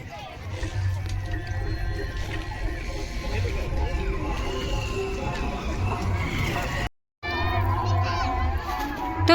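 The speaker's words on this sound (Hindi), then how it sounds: "तो आप देख सकते हो यहाँ पे लोगन के आवागमन तो शुरू हो चुके हैं और भारी भीड़ है" A large, dense crowd fills the Ramchua fair grounds at Kawardha, Chhattisgarh, on Makar Sankranti, a constant roar of many voices with children shouting close by, broken by one brief silence near the end.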